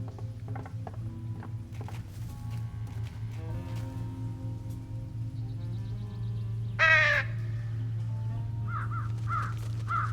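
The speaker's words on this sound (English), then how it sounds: "I guess it does sound like a crow" Crows cawing in the video game Trüberbrook, heard over a steady low hum and light rain-like patter, with a loud cluster of harsh caws in the middle and a few fainter caws near the end.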